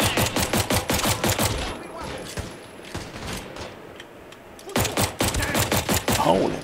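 Rapid video game gunfire in close repeated bursts, with a quieter stretch between them. A sniper fires from far off.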